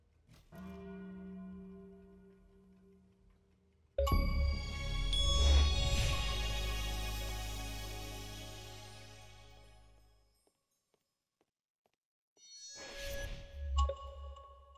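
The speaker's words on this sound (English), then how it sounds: "There will be a hammer that you can interact with in order to ring the bell" A clock tower bell in the Power Wash Simulator video game is struck with a hammer, giving loud, ringing clangs that decay slowly; a brief tone, then a big strike that hums for several seconds, then another strike.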